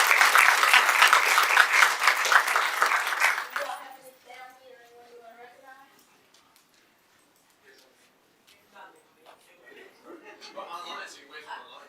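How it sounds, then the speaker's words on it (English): Crowd applause for outstanding teachers at a regular board meeting, a dense burst of clapping for about four seconds that quickly dies away, followed by quiet murmuring and scattered speech. "let's give them another round of applause"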